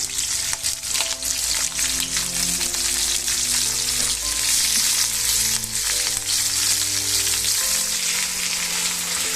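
Cissus quadrangularis (nalleru) stems frying in hot oil, giving a steady, loud, dense sizzle with scattered crackles throughout and no talking.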